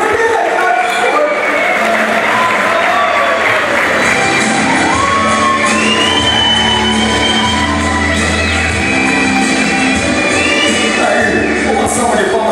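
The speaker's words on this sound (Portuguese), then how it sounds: "uma salva de palmas" Audience at a queen's pageant ball at Expoagro in Bragança Paulista cheering, whooping and shouting loudly throughout, with a crowd roar and scattered shouts over music-like tones.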